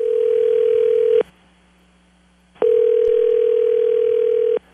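Telephone ringback tone on a prank call line: two long, steady electronic tone bursts separated by about a second and a half of near-silence, clean and alone without talk.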